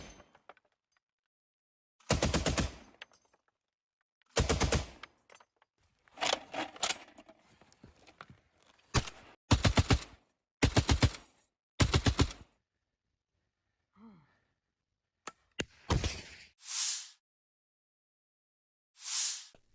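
Gunfire from a T-72B tank crew attacking an enemy stronghold, loud separate bursts and sharp reports spaced by silent gaps, heard alone without talk.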